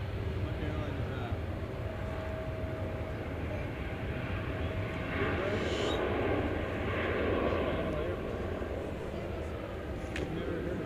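A jet airliner rumbles steadily at DFW airport, with broad continuous engine roar that swells slightly midway, heard from a distance under light background noise.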